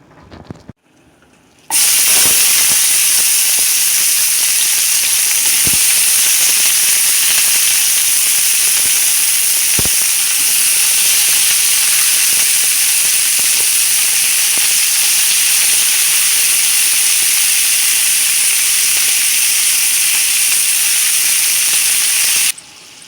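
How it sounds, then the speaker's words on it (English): Saltfish and vegetables dropped into hot oil in a pan for Jamaican sautéed saltfish, bursting into a loud, dense, continuous hiss and sizzle after a brief quiet start, close up and without talk. "When the oil gets hot, you add your vegetable and the saltfish."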